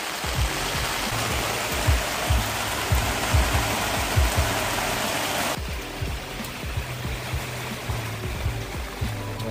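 Steady rain hiss with a rushing watery wash throughout, plus low rhythmic thumps underneath; the texture shifts and softens partway through.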